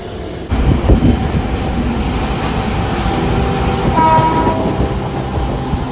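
A Mumbai local train runs at speed: loud, close rumble and clatter of wheels on rails with metallic squealing, and no voices.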